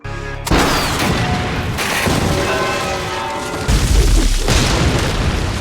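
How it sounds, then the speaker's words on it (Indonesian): A loud, deep boom of a bazooka shot hitting a church roof bursts in suddenly, followed by a long rumbling roar and crumbling debris, with a second heavy thud near the end. "Elsa sudah bersiap dengan basokannya dan menembaknya tepat di atap gereja"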